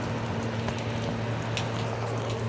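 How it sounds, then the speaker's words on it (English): Rain falling steadily outdoors, a dense, even hiss of drops with a constant low hum underneath, close and unbroken throughout. "And by golly, it's raining."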